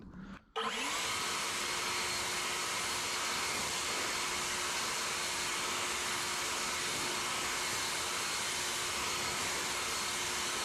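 Ego 56V cordless leaf blower, model LB6504, running at its highest non-turbo setting: a brief start followed by a steady, loud, rushing whine that holds constant for about ten seconds with no talk.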